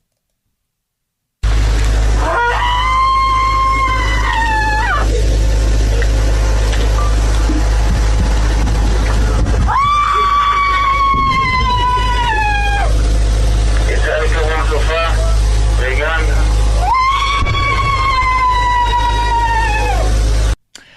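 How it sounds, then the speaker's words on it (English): A woman wails during a massive memorial and prayer ceremony in Israel, with three long sustained cries rising and falling, separated by quieter stretches, loud and close over a steady low hum. "That is a wailing mother or a wailing wife"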